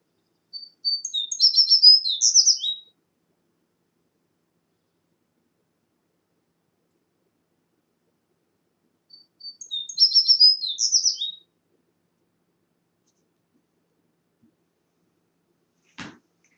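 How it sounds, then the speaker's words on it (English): American tree sparrow song: two separate bursts of sweet, high whistled notes, each about two seconds long and clear against silence, followed near the end by a brief faint click. "the males sing a series of sweet, high whistle notes"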